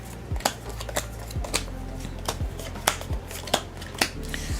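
Pokemon card booster packs being shuffled by hand, a quick series of crisp riffling flicks and slaps repeating at a steady rhythm, close and clear with no talking.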